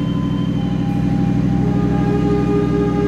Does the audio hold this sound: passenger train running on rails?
yes